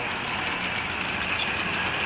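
A model train runs on a home layout with a steady whirring motor and faint rail clatter, a continuous mechanical hum and no talking.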